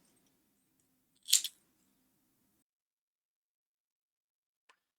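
Scissors snip through crochet yarn once, a short crisp cut in an otherwise quiet room, followed much later by a faint tiny tick.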